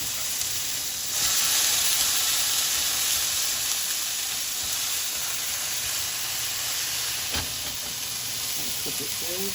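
Frozen ground beef for tacos cooks slowly in a pan, giving a steady close hiss and sizzle that runs throughout, with a brief louder clatter partway through.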